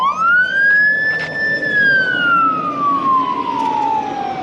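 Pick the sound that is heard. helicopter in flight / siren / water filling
siren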